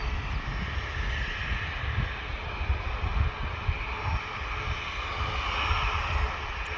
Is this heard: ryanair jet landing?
yes